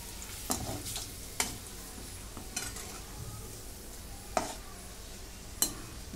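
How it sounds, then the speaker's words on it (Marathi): Puffed-rice snack ingredients fry in a pan of hot oil with the gas just turned off, giving a soft steady sizzle broken by several sharp clinks of a utensil stirring against the pan. "एवढ्या तेलातच ते तळून होईल"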